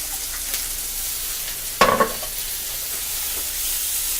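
Salmon and asparagus fry in a pan with a little olive oil, giving a steady soft sizzle with one brief louder burst of crackle partway through.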